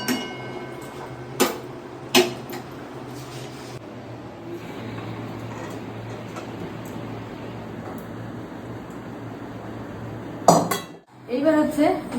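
Cooked hilsa fish curry being poured from a pot, with a few sharp metal clinks of utensils against the pot at the start and end around a long stretch of low kitchen hiss.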